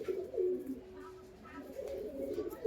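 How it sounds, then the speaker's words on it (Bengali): A Punjabi Malwai pigeon coos in low, rolling phrases, close and fairly soft, repeating steadily through the short stretch with no voices over it. "এটা একটা পাঞ্জাবি মালওয়াই কবুতর, খুব সুন্দর, দেখো পায়রাটা পুতুলের মতো।"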